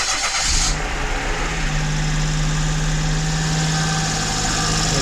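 A car engine cranks briefly and catches, then settles into a steady, loud idle with a constant low hum close by; no talking.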